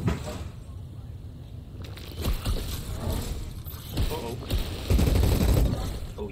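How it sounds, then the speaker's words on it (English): Akimbo pistols firing in Outriders, a rapid series of sharp gunshot bursts in uneven clusters, loud and close, mixed with game effects and a voice talking over them. "So I've gone over to pistols, I've got akimbo pistols"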